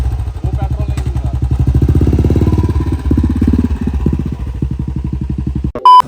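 A motorcycle ridden in Kashmir, its engine running loud and close with a steady throbbing rumble and light mechanical clatter for several seconds, then briefly cutting out near the end.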